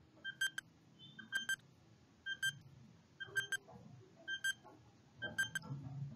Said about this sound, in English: Let's start the timer.